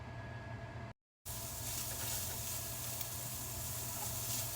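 Andouille sausage renders and crisps in a hot pan with a continuous, even sizzle up close, briefly cut to silence near the start before the frying noise resumes unchanged.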